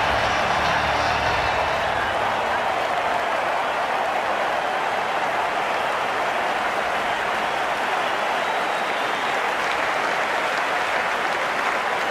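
A cricket stadium crowd in the video game Cricket 19 roars and cheers loudly and continuously, a dense, unbroken wash of noise that slowly eases off as it goes on.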